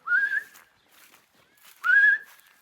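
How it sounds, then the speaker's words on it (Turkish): Two drawn-out, wavering human whistles used to calm dogs, each about half a second, separated by a quiet pause with faint rustling; close and fairly soft. "bu normal sakinleştirme ıslığıdır"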